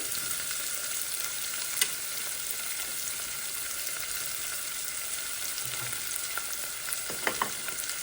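Garlic sautéing in a pan for a vaddu kathirikai kulambu, a loud, continuous close-up sizzle of frying with a few faint stirring taps, no talk.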